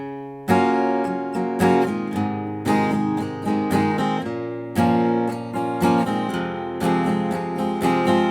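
Acoustic guitar strums the chords of a song in a steady down-and-up rhythm, slowed to a relaxed tempo, bright and close, with no voices.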